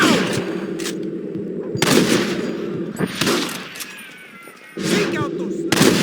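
Gunfire in the Red Dead Redemption video game, with loud broadband shots and bursts recurring every second or so and a steady battle din beneath them.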